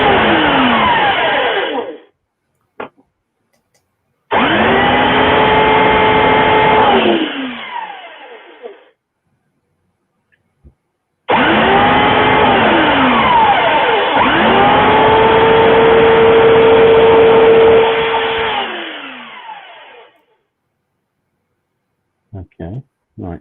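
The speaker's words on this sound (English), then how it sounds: "no, it's my McAllister belt sander" A McAllister belt sander runs in loud, sustained bursts with a steady motor whine and pitch shifts under load, stopping and restarting twice with short silent pauses between runs.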